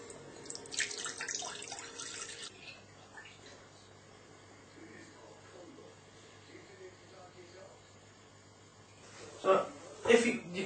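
Liquid is poured steadily into a measuring jug for blackberry jelly, a soft, continuous pouring and trickling heard up close with short louder splashes near the end, faint and without talk.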